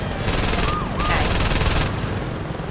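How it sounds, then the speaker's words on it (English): Helicopter arriving in the Saints Row 2 video game, a steady broadband rotor and engine roar. It sits amid game gunfire and action noise, with bursts of denser noise and a talking voice over it. "another chopper has arrived."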